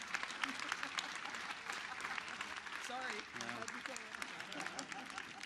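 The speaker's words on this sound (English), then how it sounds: "we could give her another round of applause" An outdoor crowd at a university academic center groundbreaking ceremony applauds in a sustained, even roar of clapping, with a voice briefly rising over it partway through.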